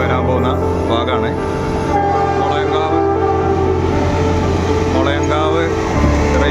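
A train on the Nilambur–Shoranur railway rumbles steadily near the Mulayankavu rail gate, with a constant droning engine hum throughout, while people talk over it.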